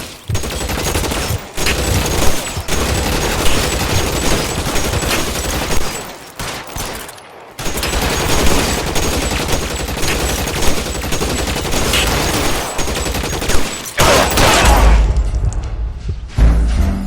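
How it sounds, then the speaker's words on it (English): Gunfire in the L.A. Noire video game, loud dense bursts of rapid shots with short pauses and a brief break midway, the shooting close and continuous with no talk. "Shots fired."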